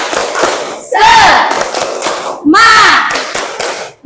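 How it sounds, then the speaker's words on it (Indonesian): A classroom of children performs a rhythmic clapping chant together, loud shouted voices rising in two bursts over steady claps and thumps, close and energetic. "Ayo sama-sama kita semua tepuk semangat."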